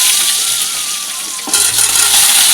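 Potol and potatoes hit hot oil in a karahi, giving a bright, loud continuous sizzle that surges into a fresh burst of frying partway through, with a faint clink of a utensil.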